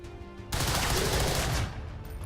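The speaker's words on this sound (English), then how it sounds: "Mox, can you just shoot that guy?" A burst of gunfire in XCOM 2 erupts suddenly after a quiet lead-in, a loud sustained crack and rumble lasting about a second before fading to ambient game sound.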